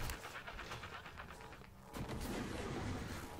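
Glue cannon firing in the video game Prey, a rapid run of repeated soft bursts and spurts that grows denser and louder in the second half, with no talking over it.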